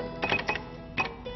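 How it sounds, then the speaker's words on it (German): Cash register chime from the Sim City city-building game, a few quick bright ringing bursts in close succession, clear and alone with no talking. "Oh, hört ihr diesen Kassensound?"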